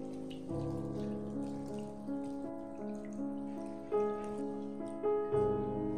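Water poured steadily into a cooking pot for pork liver soup, a continuous close splashing stream whose tone shifts as the pot fills, with no talk.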